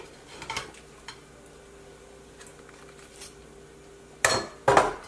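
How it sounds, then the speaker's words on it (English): Stirring and scraping the bottom of a cooking pot during a beef chuck shoulder roast recipe, with a few soft scrapes followed by two louder metallic clanks and scrapes near the end. "Stir it around. Scrape up the bottom."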